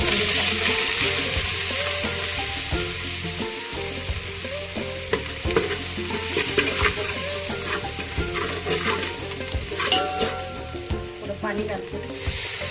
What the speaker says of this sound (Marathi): हे बघा तेल गरम झालेले. त्यामध्ये मी आता 2 चमचे हळद घालते.